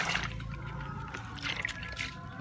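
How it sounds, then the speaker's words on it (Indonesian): Water from a scoop poured onto cucumber plants in polybags, a soft, steady trickle and splash of liquid that sits fairly quiet against background noise. "Oke, saya siram seperti ini teman-teman."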